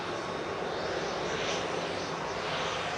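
A Bombardier Global 5000 business jet at Manchester Airport gives a steady, loud broadband engine roar that holds evenly throughout, with no talk over it.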